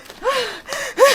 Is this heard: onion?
no